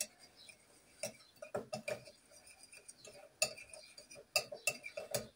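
A spoon clinks and scrapes irregularly against a bowl while boiled potatoes are mixed with dill, salt and pepper; the taps come close and fairly quiet in uneven bursts.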